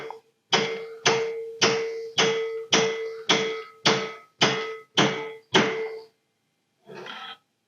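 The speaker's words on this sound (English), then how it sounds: "you're going to take a hammer and lightly tap it." Hammer lightly tapping a stuck valve on a generator engine: nine evenly spaced metallic taps with a ringing tone, close and crisp, then a short pause and one softer final tap.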